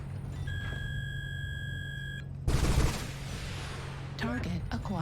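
ATM missiles launching in the mech combat game Mechwarrior Online: a steady lock-on tone, then a loud burst of rapid-fire launches, followed by further crackling impacts over a constant engine hum.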